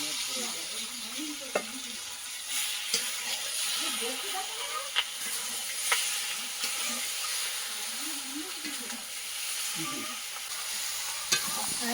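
Country chicken frying in red masala in a pan, giving a steady hissing sizzle with stirring scrapes and occasional sharp clicks, while faint voices murmur in the background.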